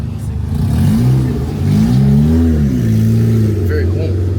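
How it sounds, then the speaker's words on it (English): A drift car's engine revs repeatedly at a drift park, rising and falling in loud, close pitch sweeps over a steady idle rumble. "I'll go out, do my second run, warm the car back up, and then Benny will go past it."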